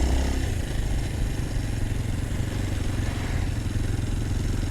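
A Kawasaki KLX230 motorcycle rides over bricks in Bali, its engine droning steadily close by with a rough, continuous rumble and rattling clatter from the uneven surface.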